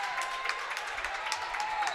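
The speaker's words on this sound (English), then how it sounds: "the Michigan Storm faithful give him a nice clap and a round of applause" Michigan Storm fans at a basketball game give a steady round of applause, a dense patter of many hands clapping at moderate distance, with no one talking over it.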